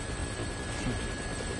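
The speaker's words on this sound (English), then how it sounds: "Looks like taking a helicopter was the way to go." Continuous helicopter rotor drone in Dead Rising, a steady dense chopping rumble that holds at an even loudness throughout.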